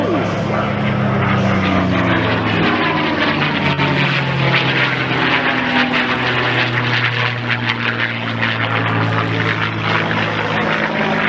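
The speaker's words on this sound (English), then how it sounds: "Mr. Jim Beasley in that beautiful P-51 Mustang with a slow roll" A P-51 Mustang propeller plane flies a slow roll at an airshow, its loud droning piston engine shifting in pitch as it passes, with an announcer talking over it.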